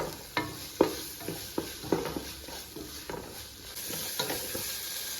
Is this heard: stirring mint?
yes